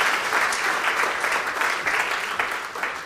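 An audience at an economics lecture gives a big round of applause as two participants return to their seats, loud, dense and sustained clapping with no voices over it.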